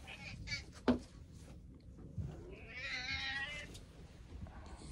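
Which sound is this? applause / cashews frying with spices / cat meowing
cat meowing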